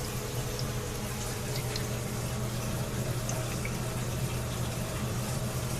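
Water runs at full blast to fill a saltwater tank, a steady close rushing hiss with a low hum and no pauses.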